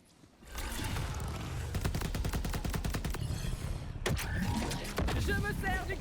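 Heavy, rapid booming shots from a cannon in the video game Borderlands 4 pound continuously over a dense, rumbling background, with a short break before firing resumes.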